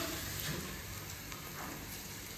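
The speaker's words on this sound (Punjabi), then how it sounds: "ਪਿਆਜ਼ ਭੁੱਜ ਗਿਆ" Onion frying in a pan for poha gives a soft, steady sizzle with faint crackling, continuous and fairly quiet throughout.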